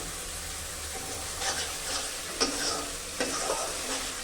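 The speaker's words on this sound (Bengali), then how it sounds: "এবার আমি ডিম আর আলুটাকে কষিয়ে নেবো ওর সাথে একটু" Boiled eggs and potato pieces for an egg curry being sautéed in oil with masala, a steady sizzle broken by several spoon-stirring scrapes, close and without talk.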